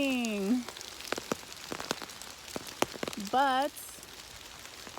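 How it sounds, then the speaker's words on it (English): Rain pattering steadily in a beautiful forest, a faint continuous hiss with scattered drop taps, while a voice speaks briefly near the start and again later. "And it's freaking raining."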